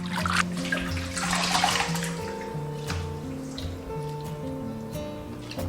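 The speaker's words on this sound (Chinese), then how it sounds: "牛肚跟牛杂我们也简单清洗一下" Beef tripe and mixed offal rinsed in water in a kitchen basin, with continuous splashing and trickling water and some clattering, fairly close and steady, no talk.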